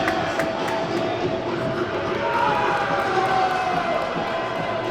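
Crowd of York City Knights rugby league fans cheering as their players come onto the field at a London Broncos match, a steady broad roar with no clear peaks, a commentator's voice faintly present beneath it.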